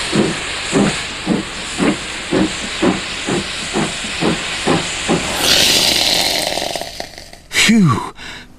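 A steam iron puffs a rhythmic series of short steam hisses, about a dozen evenly spaced bursts, followed by a longer continuous loud hiss and a final sharp squeal.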